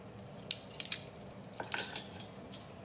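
Spoon mixing medu vada batter of ground urad dal with cumin seed, black pepper and salt in a bowl: a few sharp clinks and soft scraping strokes, close and fairly quiet, irregular, with no talk.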